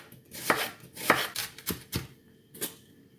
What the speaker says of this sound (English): Nice little homegrown onion. And we're going to cut this up nice and fine.